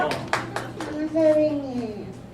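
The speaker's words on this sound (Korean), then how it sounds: "박수!" Children in a Sunday school church service clap briefly, four rhythmic hand claps up close, followed by a voice talking as the clapping stops.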